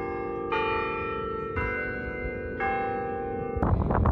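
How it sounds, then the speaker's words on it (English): Church bells toll in a steady, sustained ring, with fresh strikes at roughly one-second intervals layered over a lingering hum, and a busier clang near the end. "Oh, that's the bells."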